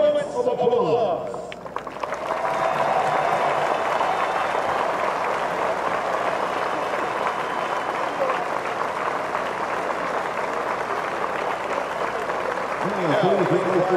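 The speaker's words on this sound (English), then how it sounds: "Please join us in celebrating Joseph's life in the way he would have wanted, through a few moments of applause." At a soccer match between Orlando City SC and LA Galaxy II, the stadium crowd breaks into sustained applause in memory of Joseph. It swells after a brief amplified voice at the start and holds as a broad, distant roar of clapping.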